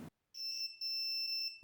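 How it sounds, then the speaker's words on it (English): Multimeter in continuity mode giving a clear, steady high-pitched electronic beep, alone, in two long tones separated by a tiny gap. "If all is okay, you will hear a beep."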